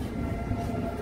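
The Kanchan Kanya Express, a passenger train between Sealdah and Alipurduar, rumbles along as a steady, dense low roar heard from inside a moving coach, continuous and even, with no talking.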